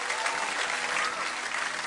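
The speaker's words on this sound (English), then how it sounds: "Round of applause." Studio audience at a 1970s-themed TV music quiz breaking into applause, a short, even burst of dense clapping with no talking over it.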